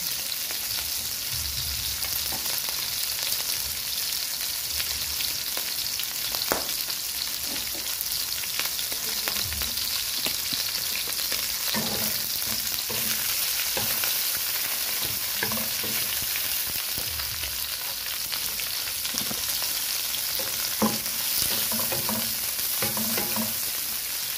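Onion and garlic fry in a pan with a loud, continuous, close sizzle that fills the whole stretch, under scattered scraping and stirring knocks.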